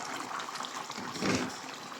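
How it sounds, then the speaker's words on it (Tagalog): Water with oyster sauce, liver squid, Sprite and brown sugar comes to a boil in a covered pot, giving a steady close bubbling hiss that swells briefly midway. "kumukulo na"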